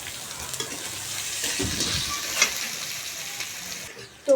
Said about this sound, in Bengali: পেঁয়াজটা তেলের মধ্যে দিয়ে দিচ্ছি একটু ভালো করে ভেজে নেবো